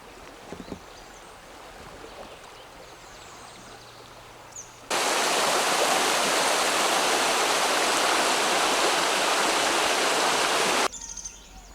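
Steady rushing flow of the Manistee River along a backpacking trail, a loud broadband wash that swells in abruptly for several seconds and then cuts back to quieter ambience with faint birdsong.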